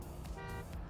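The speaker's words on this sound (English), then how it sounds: "He is more focused on horning than pressing his brake button to drift." A car horn in a Wii racing game played on a Wii Wheel, one short honk over steady engine and game noise, brief and mid-level.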